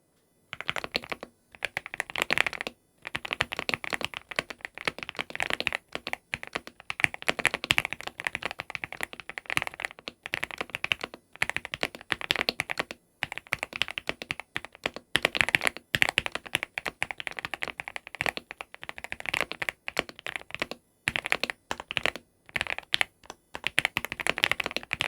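Someone types steadily on a mechanical keyboard modded with masking tape, producing dense, fast, muffled keystroke clacks with brief pauses, close and clear for about twenty-five seconds.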